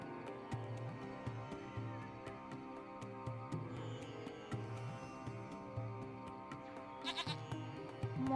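A baby goat bleats in the video game Lost Horizon, with several short bleats rising over a steady musical backdrop, close and moderately loud.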